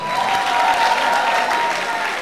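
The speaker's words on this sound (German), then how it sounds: "das ist auch mein Applaus wert" Brief burst of audience clapping at a charity event, fairly loud and close, a dense steady patter lasting about two seconds.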